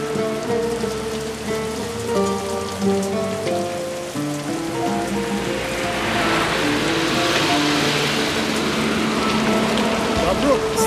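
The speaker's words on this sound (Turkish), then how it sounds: "Yağmur başladı." Rain begins to fall in Istanbul, a hiss that swells in the second half and turns into a steady, loud wash of rain on surfaces over a sustained musical score.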